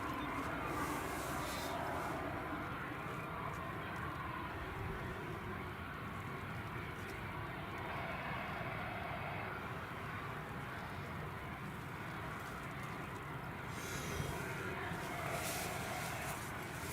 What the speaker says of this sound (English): Like I say, this should be a nice long takeoff run, hopefully.